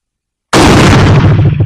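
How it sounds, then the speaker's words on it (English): A single loud, close gunshot from an 1886 Mannlicher rifle cracks after half a second of silence, followed by a booming low rumble that decays over about a second. "I'm just shooting to see if I can get any kind of a group today"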